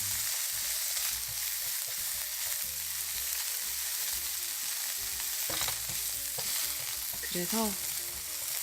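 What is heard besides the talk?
onion and bacon frying in a pan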